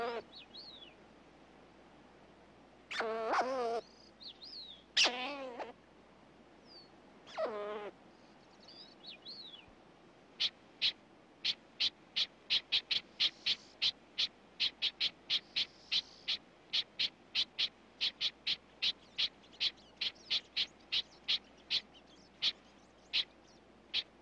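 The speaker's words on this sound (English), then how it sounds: "the mating season is ushered in by a chorus of chattering squirrels." Red squirrels chattering in a wintry forest during the late December mating season, a few harsh scolding calls followed by a long run of rapid, sharp, evenly spaced chips, fairly close and clear.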